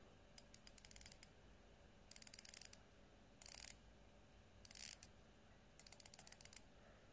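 Seiko Marinemaster dive watch bezel turned by hand in five quick bursts of crisp, close ratcheting clicks separated by short pauses, with no talking.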